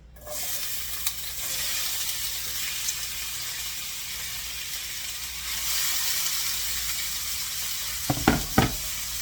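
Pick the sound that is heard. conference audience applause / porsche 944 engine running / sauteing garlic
sauteing garlic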